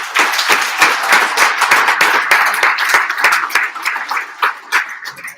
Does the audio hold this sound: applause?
yes